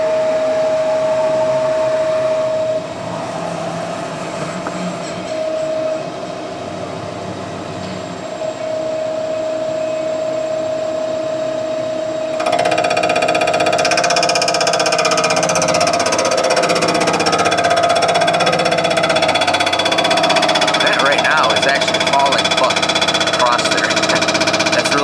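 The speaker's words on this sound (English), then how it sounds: "So we're going to deck this side." A milling machine decks the cylinder head surface of an LS engine block, a continuous loud machining whine and grind that grows harsher halfway through, with someone talking over it.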